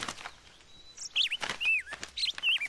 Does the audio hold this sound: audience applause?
no